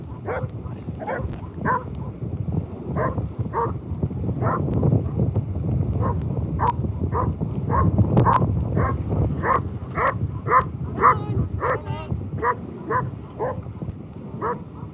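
Hamish, a dog out at Scotland's Whitelee wind farm, gives a long run of sharp, regular barks and yips against steady wind noise.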